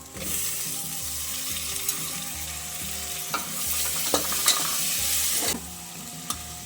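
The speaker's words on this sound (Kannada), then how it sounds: "ಮೆಂತ್ಯ ಹಾಕ್ತಾ ಇದ್ದೀನಿ" Fenugreek seeds crackle and sizzle steadily in hot oil for an egg biryani, a close, continuous frying hiss broken by a few sharp clicks of stirring, with no talking.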